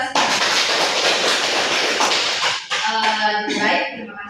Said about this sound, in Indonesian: Beri aplaus untuk kita semua.